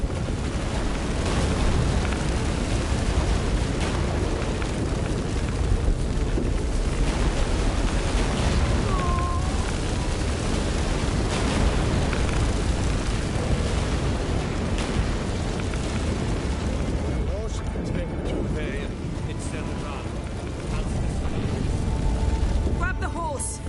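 A loud, continuous low rumble with crashing debris from an earthquake in the Witcher 3 video game, dense and sustained throughout, with in-game voices speaking over it.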